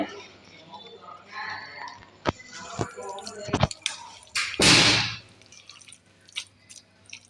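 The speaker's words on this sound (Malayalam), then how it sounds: "കുറച്ചും കൂടി വെള്ളമൊഴിച്ച് അങ്ങനെ കുറച്ച് ഇതേപോലെ" A little more water is poured into a food mixture for a fried snack: scattered drips and taps, then a short splashing pour near the end, with someone talking in the background.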